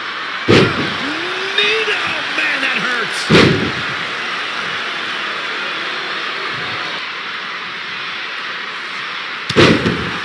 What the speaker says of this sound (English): Elbow drop right on point.